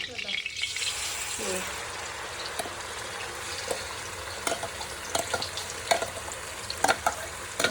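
Garlic, ginger and onion paste fries in oil in a kadai, a steady close sizzle broken by scraping stirs and small clicks of a ladle against the pan, with no one talking.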